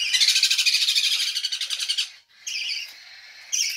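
Hungry cockatiel, budgie and sun conure chicks shriek and chirp in rapid, pulsing bursts while being hand fed, loud and close, with a brief pause before two more bursts of begging calls.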